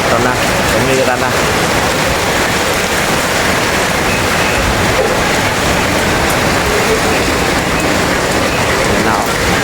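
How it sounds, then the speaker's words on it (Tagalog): Dense, loud rush of heavy rain lashing down with strong wind, a constant broadband roar and rattling with a voice talking over it. "Yan, ulan, hangin po, malakas na mga bossing."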